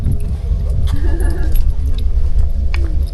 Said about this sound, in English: Beaver, can you unlock the car?